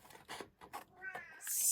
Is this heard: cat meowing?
yes